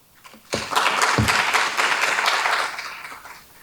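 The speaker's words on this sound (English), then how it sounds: "Let's give one more round of applause to Micae Brown, U.S. Bank." An audience at a business event on community funding applauds Micae Brown of U.S. Bank, with a burst of many hands clapping that holds for about two seconds and then tapers off.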